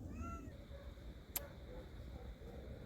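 Street cats in a tense standoff let out a short meow and a low, drawn-out yowl. The sounds are faint against quiet outdoor background noise.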